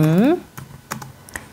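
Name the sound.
typing on a computer keyboard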